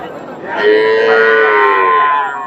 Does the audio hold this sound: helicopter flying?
no